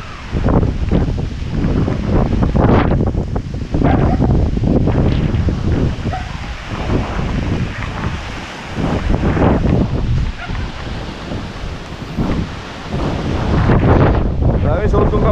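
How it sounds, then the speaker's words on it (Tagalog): Strong typhoon wind buffets the microphone outdoors, heavy low rumbling gusts surging and easing throughout, loud and close, with a person's voice partly heard under the roar. "Tinutulak ako ng hangin."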